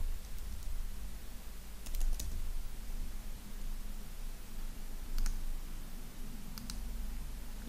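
Keys clatter on a computer keyboard as the word smartphone is typed, a few quick bursts of soft clicks spread out over a steady background hum.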